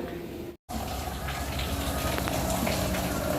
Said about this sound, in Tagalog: Very high tech shower.